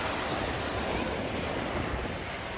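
Steady surf washes onto a beach at the sea in Mersin, a continuous rushing roar with wind buffeting the microphone.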